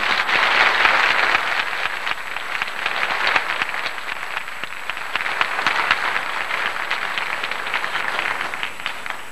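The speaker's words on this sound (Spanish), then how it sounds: "Un aplauso para ellos." An audience at a 1986 San Jorge festival applauds a prize-winning group after an announcement in Spanish, a loud, sustained wash of clapping lasting the whole stretch without a pause.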